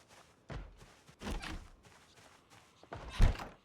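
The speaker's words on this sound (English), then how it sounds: "And some door thumping." Zombies thump on a door in the zombie survival game Project Zomboid, giving three or four heavy, dull thuds at uneven intervals, with the loudest blow near the end and no talk.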